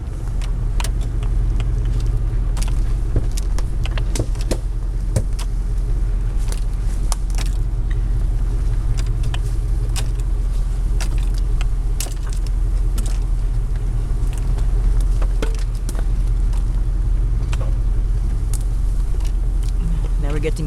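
A Jeep crawls off-road around Mud Hill on California Road, its engine a steady, close low rumble for the whole stretch, with scattered clicks and rattles from the body over rough ground.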